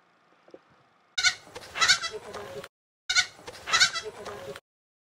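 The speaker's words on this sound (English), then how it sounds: "has two new baby goats" Two month-old baby goats bleat in two long, wavering cries separated by a short pause, loud and close against near silence.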